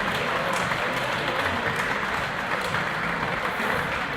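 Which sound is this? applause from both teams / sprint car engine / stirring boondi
applause from both teams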